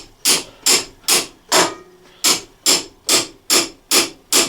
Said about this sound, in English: I got a 22 mil socket, 1/2 inch ratchet here, and just take a hammer